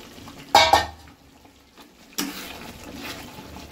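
Pointed gourd pieces tipped into a pan give a sharp clattering splash, followed by a second burst of scraping as they are stirred, then a low, soft sizzle continues.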